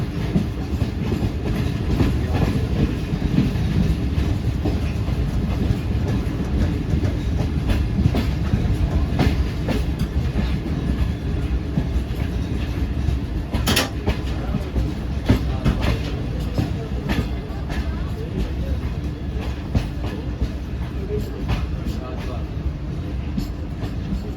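Shalimar Express passenger train runs on rails from Lahore toward Karachi, a steady rumbling roar with rhythmic wheel clatter throughout, heard from on board, with some talk faintly mixed in.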